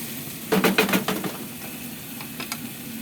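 Ground beef sizzles in a hot pan while being stir-fried for a Filipino tortang giniling. A cluster of loud spatters and scraping stirs comes early, then quieter sizzling continues with a couple of brief later spatters.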